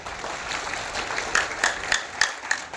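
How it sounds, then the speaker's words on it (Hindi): An audience at a Jan Suraaj organizational meeting claps in steady, moderate applause, a dense patter of many hands, with a few louder individual claps near the end, heard close and without speech. "ताली जोर से नहीं बजा लगा"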